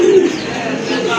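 A female pigeon coos nearby, a short, soft, throaty call over faint background voices.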